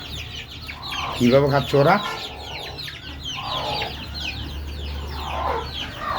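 Pet native chickens cluck steadily while pecking at jackfruit, with a louder burst of clucks early on, and a person talks briefly over them.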